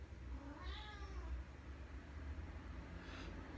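A house cat meows indoors, a drawn-out call early on and a shorter one near the end, faint against a steady low hum.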